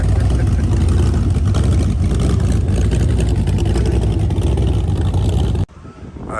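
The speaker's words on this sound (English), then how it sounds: "Rev her up, rev her up." A hot rod engine roars at high revs during a winter car run in Woolgoolga, New South Wales, a loud, sustained close growl that cuts off abruptly, leaving quieter background sound.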